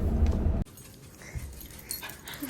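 A puppy indoors gives soft whimpers and breathy panting close by, following a brief loud rumble at the start, with no talking.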